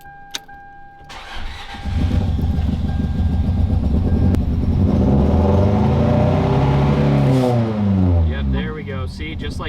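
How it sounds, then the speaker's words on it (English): A car cranks and its engine starts up near the microphone, then runs at a rough, unsteady idle from a suspected cylinder misfire that sets off a flashing check engine light, with a person talking over it. "we're gonna start this car up and see if it has a flashing check engine light"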